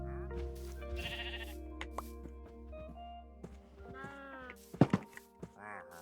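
Sheep bleat in the Minecraft video game, several wavering game bleats mixed with soft thunks and other quiet game sounds, with a couple of louder close bleats toward the end.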